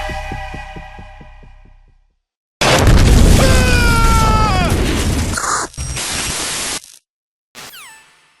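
A loud, sustained blast from a Metal Gear Solid 2 cutscene, a roaring burst of noise that hits suddenly after a rhythmic pulsing tone and then cuts off abruptly, with a brief electronic sweep afterward.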